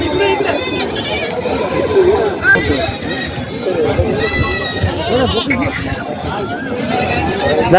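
Goats bleat repeatedly, some near and some farther off, over the busy chatter of a crowded goat and sheep market in Vasmat, Maharashtra.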